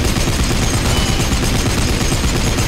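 Continuous, loud, dense gunfire from the video game Blades of Time forms an unbroken roaring wall of rapid shots from start to finish, with no speech.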